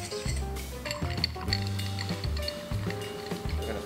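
Ice clinks and rattles in a mixing glass as a bar spoon stirs a cocktail of smoked Evan Williams bonded bourbon, funky rum agricole and Demerara, a quiet, close and steady swirl with faint knocks.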